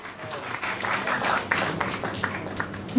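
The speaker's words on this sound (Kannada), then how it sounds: "ಒಂದು ಜೋರಾದ ಚಪ್ಪಾಳೆ ಮೂಲಕ ಬಲಿ ಜೋರಾದ ಚಪ್ಪಾಳೆ" An audience at a Kannada film teaser and motion poster launch event breaks into sustained, fairly loud applause, with a dense patter of many hands clapping and some crowd noise mixed in.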